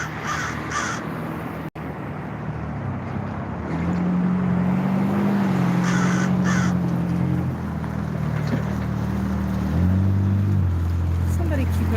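Crows caw outdoors in short repeated calls over a steady low hum of boat or engine noise, with some speech in the background.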